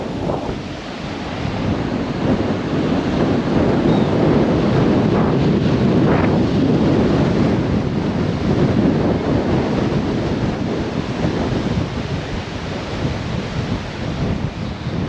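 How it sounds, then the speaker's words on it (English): Ocean surf and strong wind at a Vero Beach, Florida dock during Hurricane Nicole: a continuous loud roar of crashing waves and gusts buffeting the microphone, steady throughout with no talking. "the ocean is already starting to come up to the steps there"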